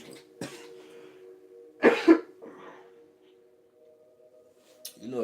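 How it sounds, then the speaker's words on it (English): A person coughs in a couple of short harsh bursts near the middle, with a few fainter throat sounds around them, close by over a steady low hum. "They have the hiccups and be coughing at the same time."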